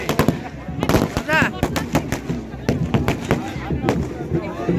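Rapid strings of loud firecracker bangs crackle in quick bursts, with people talking and shouting amid the noise.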